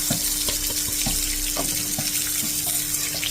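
Chopped onion frying in hot oil in a pan for a home-style cabbage dish, giving a dense, steady crackling sizzle with scattered pops, close and continuous throughout with no voices.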